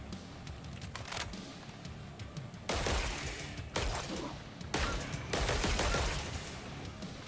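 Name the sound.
gunshots from the video game Killing Floor 3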